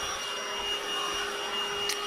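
A cordless Lidl Hoover vacuum cleaner runs in a steady, high whining hum with a constant motor tone, close and even throughout, with one brief click near the end.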